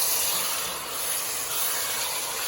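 Chicken sizzling in hot oil in a pan for a Tamil pepper chicken curry, a loud, dense, steady frying hiss that fills the whole moment with no voices.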